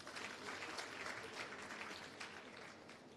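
An audience at the launch of a skills development centre gives a round of applause, a fairly quiet but continuous, evenly textured crackle of many clapping hands.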